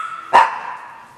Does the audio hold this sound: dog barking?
yes